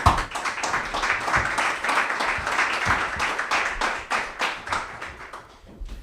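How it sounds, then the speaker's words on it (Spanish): Audience applause at a school poetry recital, dense clapping from many hands at steady loudness throughout, with a few sharper individual claps standing out. "Un aplauso para ellos."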